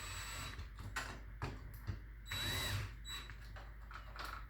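Screws are driven and snugged while installing a keypad deadbolt on a door, with quiet clicks, brief ratcheting and short mechanical whirs in irregular bursts, faint and close.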